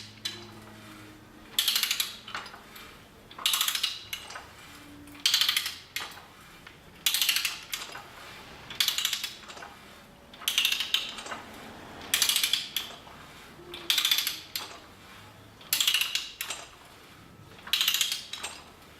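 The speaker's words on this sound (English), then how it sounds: "Pipe has come to the edge of the dies, got the maximum taper achievable" A Garrick hand ratchet threader cuts a thread on a pipe with oiled dies, giving regular bursts of metallic ratcheting clicks about every two seconds with quieter pauses between strokes, and no talk.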